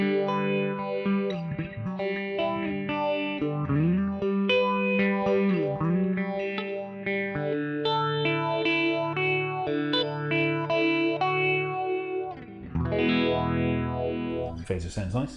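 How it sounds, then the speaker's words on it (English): Electric guitar played through the phaser setting of a Keeley Supermod Workstation pedal, the slow sweep making chords and notes swirl and shift in tone continuously for about fifteen seconds, with no talking. "Phaser sounds nice."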